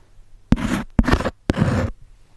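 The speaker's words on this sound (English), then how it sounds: "write some letters on this cardboard with my brush, and it's going to sound like this." Three short bursts of dry brush scratching across cardboard while writing letters, each about a third to half a second, separated by brief pauses, close and fairly loud.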